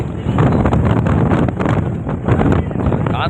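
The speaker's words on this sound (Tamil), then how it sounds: "காற்று எப்படி அடிக்குது பாருங்கள்." Strong coastal wind buffets the microphone at Pamban bridge in Rameswaram, a loud roaring rush that surges and eases in gusts, with someone talking faintly underneath.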